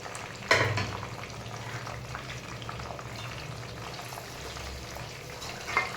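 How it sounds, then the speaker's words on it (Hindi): Green beans, cauliflower and carrots fry together in hot oil on a large stove burner for a Hyderabadi tarkari biryani, giving a steady close sizzle with one sharp clatter near the start and a small knock at the end. "और ये फली भी डाल देती हूँ। सब एक साथ तल लेते हैं।"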